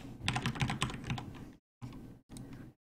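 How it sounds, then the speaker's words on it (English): Fast typing on a computer keyboard, with a dense run of close key clicks for about a second and a half and then two shorter bursts separated by silence. "you're just going to type in the IP of whatever your server is on your network"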